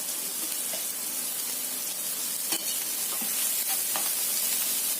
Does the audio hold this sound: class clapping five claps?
no